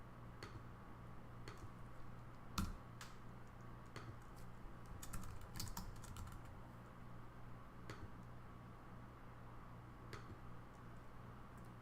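Someone types a few letters on a computer keyboard, with sparse, soft key clicks spread out over a steady low hum of machines in a lab.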